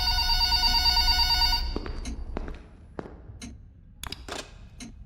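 An old-style telephone bell rings loudly in a Five Nights at Freddy's fan game, Forgotten Memories, for about a second and a half, then cuts off, leaving scattered dull thumps and clicks in a quiet room.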